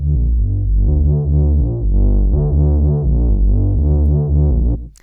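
Sine wave synth tone run through heavy built-in distortion drive, a loud, buzzy, harmonically rich sustained sound pulsing in a steady wobbling rhythm for about five seconds before cutting off.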